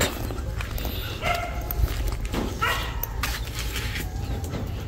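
Several dogs yip and bark intermittently at moderate distance over a noisy outdoor background, with faint voices in the mix.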